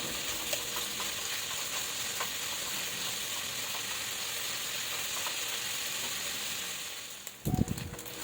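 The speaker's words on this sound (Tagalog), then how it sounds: "isosote natin yung ating mga meat hanggang mag golden brown siya or medyo toasted siya ng konti" Pork pieces sautéing in a pan for ginisang ampalaya, a steady close sizzle and crackle of frying meat running throughout, with a brief louder clatter near the end.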